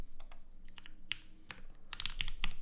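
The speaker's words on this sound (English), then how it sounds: "This is what this board sounds like." Keystrokes on a gasket-mounted mechanical keyboard with no foam installed, a loose run of sharp clicks and clacks at moderate level, some doubled, over a faint low hum.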